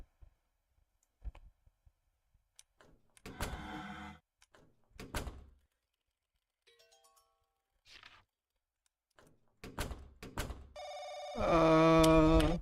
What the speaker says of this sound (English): Why do I keep forgetting that stupid phone call?